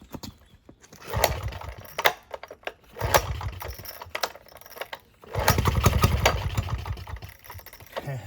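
An old Villiers Marvil two-stroke engine, unrun for about six years, sputters with irregular popping bursts, then fires into a rougher, sustained chugging run nearby, with a few voices speaking between attempts.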